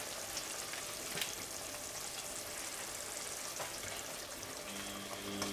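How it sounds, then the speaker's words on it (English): Ingredients for vegan efo elegusi are stirred in a pot, a faint, steady sizzling hiss with soft occasional scrapes, quiet and continuous with no voices. "Mix that around a little bit, get it incorporated"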